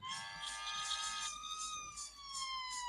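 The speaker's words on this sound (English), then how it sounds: "What's with that ambulance?" Electronic ambulance siren from a Taito helicopter shoot-'em-up arcade game, a steady high wailing tone that dips slightly in pitch, loud and continuous for about three seconds without talk.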